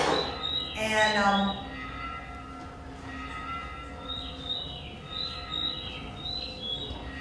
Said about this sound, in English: the sounds are these sound wave bells that I recorded in Portugal last winter, and the birds